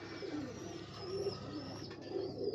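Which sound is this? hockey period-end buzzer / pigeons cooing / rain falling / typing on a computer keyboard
pigeons cooing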